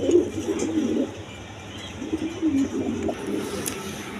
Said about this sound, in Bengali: দশমীতে এখানে একটা গররামাদি কবুতর আছে